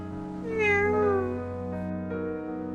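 A hungry, weak cat meows once, a drawn-out rising-and-falling cry, with a fainter second mew following against a steady low background hum.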